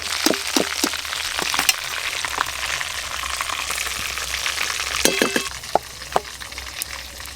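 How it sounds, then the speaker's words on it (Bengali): Chicken pieces fry in a pan with a busy close sizzle, scattered pops and crackles, and occasional stirring clatter, with no talking. "এই চিকেনের পিসগুলো ভালো করে ভাজা হয়ে গেছে।"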